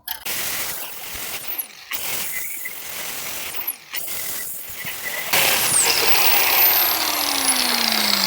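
A Metabo angle grinder cuts off a seized body mount bushing clamped in place, its high whine surging in several bursts of about two seconds each, then running steadily and loud near the end.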